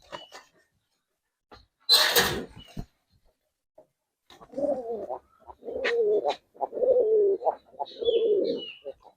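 A sharp noisy burst opens, then Giribaz and coloring pigeons coo up close in several rolling, throaty phrases separated by brief pauses, with a few faint high chirps near the end.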